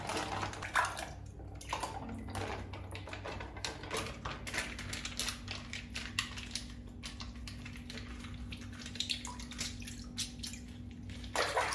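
Water splashes and sloshes steadily as a container is rinsed out during mixing of homemade concentrated fabric softener, with a continuous close wash of running and dripping water and a faint hum underneath.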